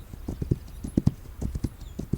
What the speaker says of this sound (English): So I'm manually controlling my horse right now